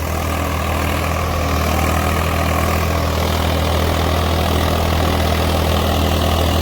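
A tractor engine runs freely at a steady idle, a loud, continuous low rumble with an even mechanical chug throughout.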